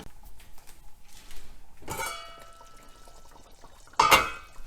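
Water pours into a pot of pork and turnip stew in two short splashing bursts against soft kitchen clatter, close and moderately loud.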